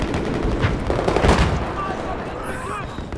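Bursts of rapid gunfire from the video game Battlefield 4 crackle in quick succession, then thin out into scattered shots, close and sharp.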